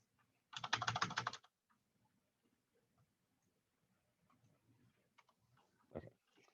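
Fast computer keyboard typing in a recorded lecture, a dense, loud burst of clicking keystrokes lasting under a second, followed by quiet with a few faint clicks and a muffled thump.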